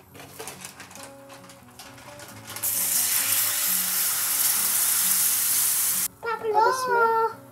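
Gram flour roasting in desi ghee with crushed cardamom and almonds, with light clinks and scraping at first, then a steady loud hiss and sizzle for a few seconds before it cuts off abruptly, followed by a brief tonal sound.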